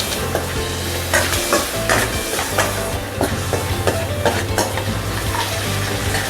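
Curry leaves and chopped tomato fry in hot oil in a pan, a close, loud sizzle broken by repeated scrapes and clinks of a stirring spoon against the metal, with no one speaking.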